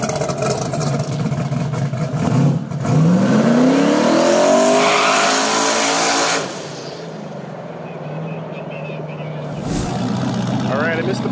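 Race car doing burnouts before a hard tire final at a big-money drag racing event, a loud sustained engine roar with rising revs and tire squeal, then easing off, with a crowd and voices in the background.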